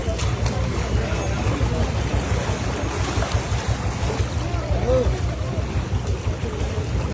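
A boat pushes through deep flood water in a village area, with a constant low engine drone, churning water and wind buffeting the microphone, steady and close throughout.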